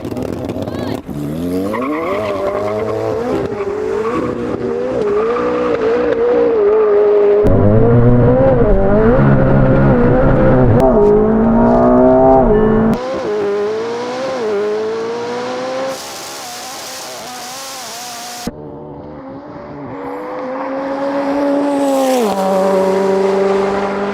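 A 1,115 hp supercar racing, its engine note climbing and dropping through repeated revving sweeps and gear changes, loud and close, with brief tire squeal and a quieter stretch before the engine surges again.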